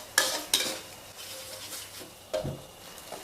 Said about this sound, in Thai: จะผัดพริกแกงส้มนะคะ ให้หอมไปก่อนนะคะ